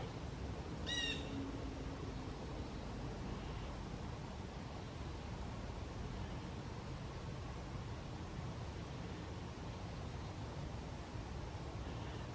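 A bird gives one brief call early on in Iroquois Park on a hiking morning, faint against a steady hiss of wind and background noise.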